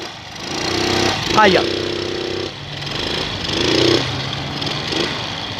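A small motor engine revs at the Praça da Matriz in Maragogipe, Bahia, a steady droning hum that rises and falls over several seconds while people talk close by.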